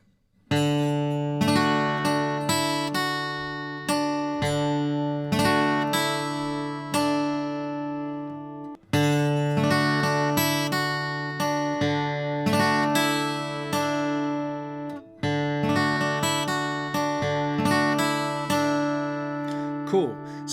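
A guitar plays a longer passage of picked notes that combines two note groupings into a repeating pattern of steady plucks with ringing sustain, close and clear, with brief pauses between phrases.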